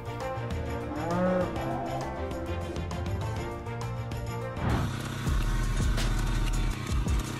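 Dairy cows in a milking parlor give several drawn-out moos, especially near the start, over a steady low mechanical hum and continuous background clatter.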